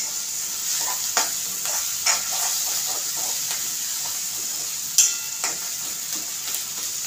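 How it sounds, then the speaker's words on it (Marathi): Onion masala fries in oil in a pan, with a steady sizzle and hiss broken by soft scraping strokes as it is stirred, heard up close without talk. "आपल्याला कांद्यामध्ये तेल सुटेपर्यंत, आम्ही भाजलेलंच वाटण असतं, पण तरी पण आपल्याला तेल सुटेपर्यंत आपल्याला याला चांगलं असं मऊ करून घ्यायचं।"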